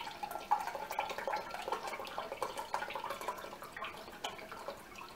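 About one and a third cups of coconut water poured into a container for a homemade electrolyte sports drink, a soft steady trickle and splash running throughout, close and fairly quiet.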